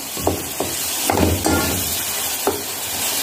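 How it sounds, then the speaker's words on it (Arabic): Onions sizzle steadily in hot oil and ghee, a constant bright hiss broken by a few soft scraping stirs of a spoon. "البصل اهو بعد ما قطعته نزلت عليه بشويه زيت ومعلقه سمنه بلدي كده معاه"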